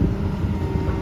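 Steady mechanical drone from a Hitachi ZX200-1 excavator's hydraulics, with a low rumbling engine bed and a thin high-pitched whine running continuously above it, loud and close, no pauses.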